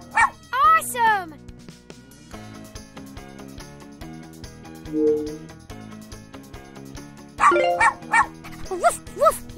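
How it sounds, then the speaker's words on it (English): Cartoon puppies in a Super Why! puppy day care video game give high, playful yips and barks. The barks come in short bursts at the start and the end, over bright, cheerful game music. "Woof, woof, yeah!"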